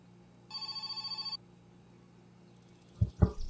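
A telephone rings inside the game My Summer Car: a bright, buzzing electronic trill pulses rapidly for just under a second, then goes quiet before a couple of dull thumps.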